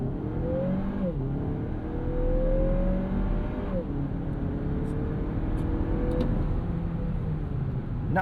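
A 2025 Lexus NX 350 turbocharged compact SUV accelerates hard from a stop in Sport Plus mode, its engine note rising and dropping through several gear changes, heard steadily from inside the cabin.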